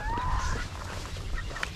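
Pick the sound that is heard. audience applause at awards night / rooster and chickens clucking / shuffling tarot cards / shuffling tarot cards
rooster and chickens clucking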